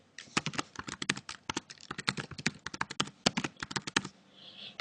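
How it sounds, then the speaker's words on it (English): Someone types a password on a computer keyboard, a quick uneven run of crisp close key clicks in bursts with short pauses, alone with no talk. "Okay, so type in your password."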